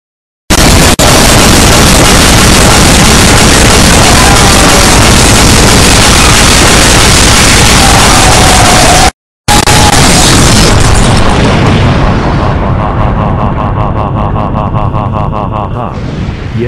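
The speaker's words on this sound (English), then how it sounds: "Now to nuke Canada with 25 goo bombs and real bombs, put into one whole infinite goo bomb" A massive, sustained blast from a huge combined goo bomb and conventional bomb detonation in a game, a roaring wall of noise that cuts out briefly, returns, then thins into crackling fire.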